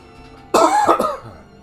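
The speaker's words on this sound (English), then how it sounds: "I'm going to cough now" A single loud, close cough bursts out after a moment of quiet, with a rough throaty tail that trails off.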